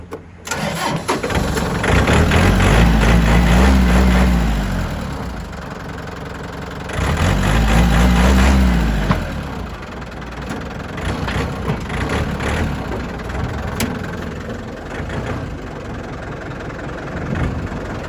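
A Yanmar 49 hp tractor engine idling steadily up close, rising in two distinct revs before settling back to a rough, even idle.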